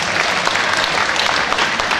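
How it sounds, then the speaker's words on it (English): Audience at a zoo show clapping together, a dense burst of close, even applause lasting a couple of seconds. "give him a clap guys"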